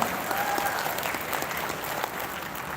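An audience applauds at a primary school graduation ceremony in a hall, steady dense clapping from a large crowd that holds evenly throughout, moderately loud and somewhat distant.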